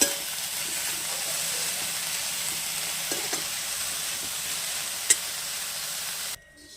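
Cauliflower florets fry in oil in a pan over medium flame, a steady dense sizzle with faint scraping stirs, continuous and close, cutting off abruptly near the end.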